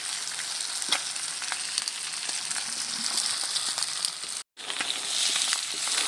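Fried potato pieces sizzle as they are sautéed with meat and offal in a pan, a steady loud hiss with scattered crackles and pops and a brief pause near the end.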